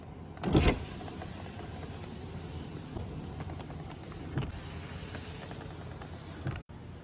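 Power windows of a 1994-1996 Chevy Caprice whir downward in a long steady motor hum, with a clunk at the start and another click partway through.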